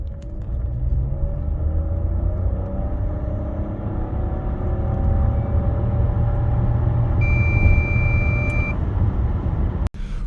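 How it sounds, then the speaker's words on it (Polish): A Nissan Qashqai 1.5 VC-T e-POWER 190 with 2WD pulls away from a standstill, giving a steady low engine and road rumble that swells gradually across the clip. A brief high electronic tone sounds near the end. No one speaks. "Z miejsca auto ma duże opóźnienie, zanim w ogóle zacznie mocno przyspieszać."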